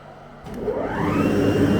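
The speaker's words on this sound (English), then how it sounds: "that's the vacuum on." A CNC machine's vacuum table pump whirs up from near silence and settles into a steady, loud, broadband drone that keeps running.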